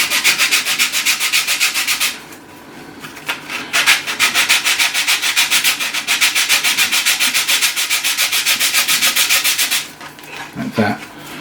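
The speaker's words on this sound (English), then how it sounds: "I'm just going to give you a basic rubbing down where I rub it" A Dalek model part is sanded by hand to remove its rough edges, with loud, rapid, rhythmic back-and-forth rasping strokes close by. The strokes pause briefly about a third of the way through and stop again near the end.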